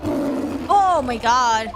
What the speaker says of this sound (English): It's the cry of a local bird known as a warbird.